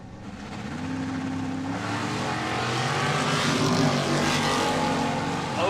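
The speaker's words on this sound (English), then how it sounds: "It's a heads up drag race here in Sweet Corn Outlaws." Nitro funny cars roar off the line side by side in a heads-up drag race at a Funny Car Chaos event, a loud sustained engine blast building steadily over several seconds without any speech.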